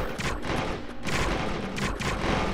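Dense bursts of rapid automatic gunfire from turrets in the strategy video game Tryst, loud and continuous with brief dips between volleys and no speech over it.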